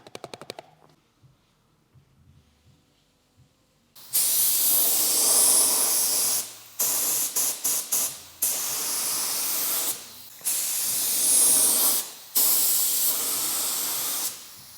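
Paint gun spraying car parts in a shop, a quiet stretch giving way to loud hissing bursts of spray, several long blasts separated by short pauses and quick stuttering taps.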